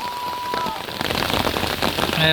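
Heavy rain pours steadily onto farm fields in Konkan, a dense hiss that grows louder toward the end, with a few faint voices underneath.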